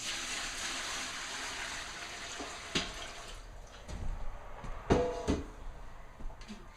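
Measured water poured into a pan while making lilac water: a quiet, steady splashing hiss with a few soft clinks and knocks near the end.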